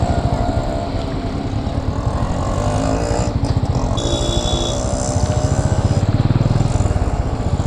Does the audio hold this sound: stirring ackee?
no